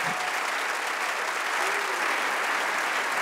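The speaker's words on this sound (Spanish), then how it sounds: "Vamos a darle ese aplauso." A church congregation at an evangelical service applauds in a continuous, even roar of many hands clapping, steady and fairly loud from start to finish.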